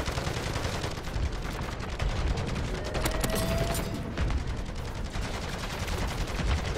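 A sentry gun fires continuously at swarming zombies in MW3 Zombies, a dense, unbroken rattle of rapid gunfire layered with mechanical clatter, loud and steady throughout without pauses.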